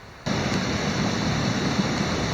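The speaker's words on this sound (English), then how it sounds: "So that's the rapids or waterfall at Seward Lean-To." Rapids or a waterfall near the Seward Lean-To rush in a steady, dense roar of falling water that starts suddenly and holds constant, fairly close and loud, with no voices.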